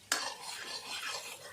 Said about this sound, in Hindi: यहाँ पे मैं तड़का लगा रही हूँ